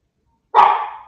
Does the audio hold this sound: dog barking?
yes